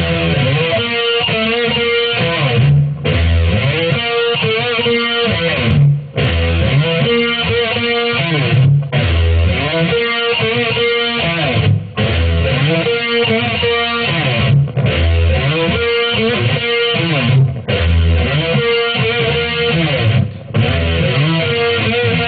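An electric guitar plays a riff in a dense, loud, chugging pattern, repeated in regular phrases of about three seconds with short gaps between them and no talking.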